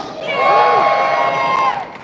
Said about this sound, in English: Give us a cheer if you're a fan of Red Dwarf.